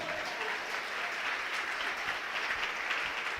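A church congregation applauding together, with sustained even clapping from many hands throughout and a faint murmur of the crowd underneath.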